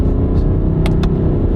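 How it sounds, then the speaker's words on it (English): A car engine held in low gear revs steadily higher than normal, giving a loud, constant droning roar that fills the whole stretch, with two brief higher whooshes near the end and no speech. "I'm going to rev the engine higher than normal"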